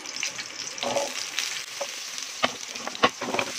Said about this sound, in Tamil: இப்போ தாளிக்கிற பேன்லேயே நெய் விட்டுக்கலாம் சின்ன வெங்காயம் சேர்த்துக்கலாம்